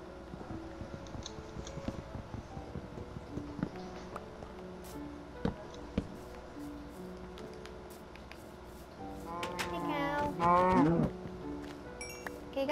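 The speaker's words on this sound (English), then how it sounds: "there's 5 cows over here. I'm just gonna go kill them." Cows in a video game moo, with one drawn-out, wavering moo near the end standing out over sparse clicks and taps, and no one speaking.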